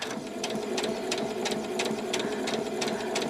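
A sewing machine runs steadily while stitching a Y seam, its needle ticking in a fast, even rhythm of about three beats per second, close and alone with no talking.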